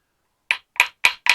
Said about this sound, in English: You should need to tap those in place.